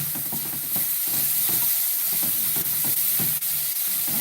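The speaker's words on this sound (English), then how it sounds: "pecans it'll be. I'm going to toast them because I want a little bit of that oily flavor to them" Pecans toast in a hot pan, a loud continuous sizzle and hiss broken by rhythmic stirring scrapes every half second or so, close by with no speech.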